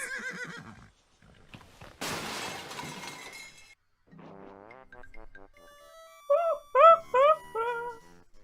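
A brown horse in a video game gives several loud, shrill whinnies near the end, each a rising-and-falling call. Earlier there are softer game sounds and a sharp glassy crash.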